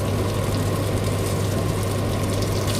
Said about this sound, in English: Apologies for the noise, I've had to put the fan on